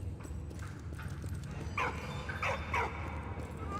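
A dog in the World War I video game Valiant Hearts: The Great War barks three times in quick succession, short and moderately loud over a low droning game soundtrack.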